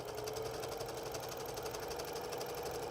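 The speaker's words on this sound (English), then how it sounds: "I like to sew and then back stitch about 2 stitches" A sewing machine stitches a quilt border in a steady, continuous mechanical whir, close and moderately quiet, with no voices.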